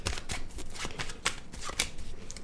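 Tarot cards being shuffled by hand, a steady run of papery riffles and flicks close up with no talking, the sharper snaps standing out every half second or so.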